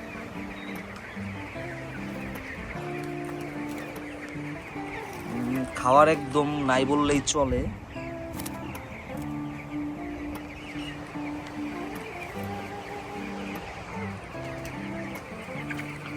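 Twenty-day-old broiler chickens in a poultry farm during intense heat, soft clucking and low murmuring from the flock throughout, with a brief louder bird call midway and someone talking over them.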